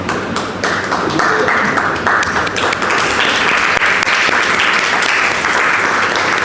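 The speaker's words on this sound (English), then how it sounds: "That applause is for Prabhupada, I hope." An audience at a spiritual talk breaks into loud, sustained applause, a dense wash of clapping that holds steady throughout without any voice on top.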